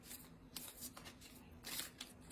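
Playing cards shuffled by hand, a very quiet close riffling and flicking in a few quick bursts with no talk.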